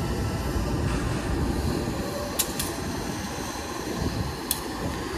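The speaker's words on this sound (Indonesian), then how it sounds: "Lokomotif CC206." A train hauled by a CC206 locomotive rolls slowly into a station on a curved turnout, giving a steady low rumble of wheels and engine with a few sharp metallic squeals and clanks, moderately loud and close.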